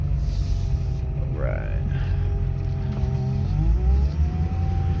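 Idling 2002 Ford F250 with a 7.3L diesel, cold, its power steering giving a faint rising and falling whine over the steady low engine rumble, with someone briefly speaking nearby.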